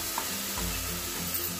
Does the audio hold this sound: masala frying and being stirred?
yes